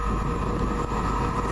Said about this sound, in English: Next up to come flying through, 1 Whiskey 24 for London Midland, from Birmingham New Street to London Euston via Northampton.